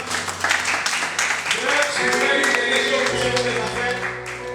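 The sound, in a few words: congregation applauding to acclaim the Lord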